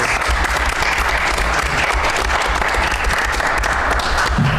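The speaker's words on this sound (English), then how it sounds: "So congratulations. Round of applause." A round of applause at a town selectboard meeting, a thick continuous patter of many hands in a room, loud and even from start to finish with a low hum underneath.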